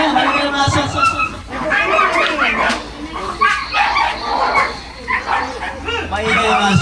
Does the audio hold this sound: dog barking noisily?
yes